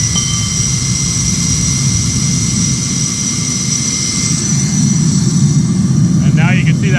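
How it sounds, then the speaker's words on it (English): A supercharged melting furnace running above 2800F, with its burner flame roaring in a loud, steady, jet-like rush that stays constant throughout while a person talks over it. "And now you can see that flame smooths out."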